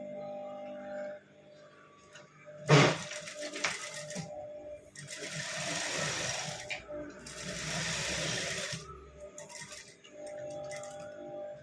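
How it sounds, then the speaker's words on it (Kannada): A sewing machine stitching the button strip of a lined blouse runs in two steady whirring bursts, with a sharp clank of handling before them and quieter clicks and rattles in between. "ಈ ಪಟ್ಟಿಗೆ, ಕಾಜಾ ಪಟ್ಟಿಗೆ ಸೆಂಟ್ರಲ್ ಒಂದು ಸ್ಟಿಚ್ ಹಾಕ್ಕೊಳ್ಳೋಣ."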